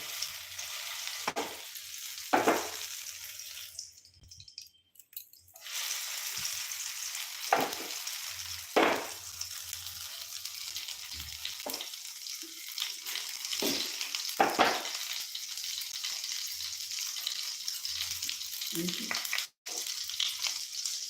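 Chicken sizzles and crackles steadily in hot oil for a Bengali-style chicken sauté, with occasional sharper spits and stirring clatter across a long stretch and no talking.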